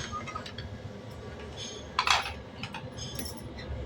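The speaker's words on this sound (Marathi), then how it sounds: "आपण आता कुकर उघडून बघूया" A metal pressure cooker lid clanks and clinks once as it is lifted off, amid quiet background rustling.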